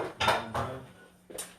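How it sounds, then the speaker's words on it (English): A metal pan for Brussels sprouts is taken out with three short, close clanks of cookware knocking together, a pause before the last one. "So I'm going to get my pan for my Brussels sprouts."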